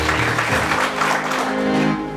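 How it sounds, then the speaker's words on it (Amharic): Guests at a wedding ceremony applaud the bride and groom, a dense, steady wash of clapping that stays loud for the whole stretch and fades slightly at the end. "እስኪ አጨብጭቡላቸው።"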